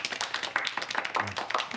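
Audience clapping in a hall after a nursing student shares her thoughts, a light scattering of hand claps with sharp irregular taps, fairly close and moderate in volume, no talk over it.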